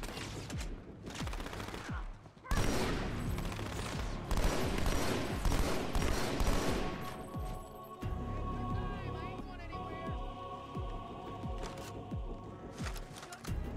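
Halo 2 video game combat with sniper shots and bursts of automatic gunfire, rapid repeated cracks in clusters, with people talking over the shooting.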